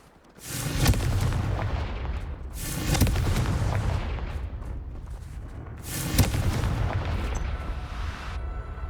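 Booming fiery blasts of a Confringo fire spell in Hogwarts Legacy, three heavy explosions spaced a few seconds apart with rumbling tails between them, loud and close.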